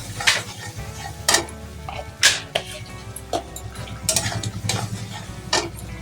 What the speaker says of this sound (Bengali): আর পরিমাণ মতো হলুদ দিয়ে দেব দিয়ে এবার সুন্দর করে কষিয়ে নেবো